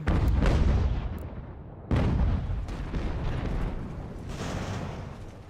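Cannon fire in the video game Ultimate General: American Revolution, two heavy booming shots about two seconds apart, each followed by a rumbling decay and with fainter distant reports trailing behind.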